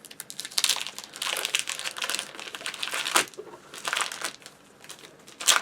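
Canvas paper pack for a 12x12 size being unwrapped, its paper packaging crinkling and crackling in dense bursts up close, with a louder rustle near the end and no talking.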